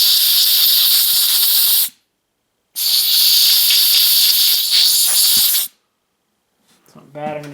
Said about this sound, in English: I'm just going to blow that out with some air.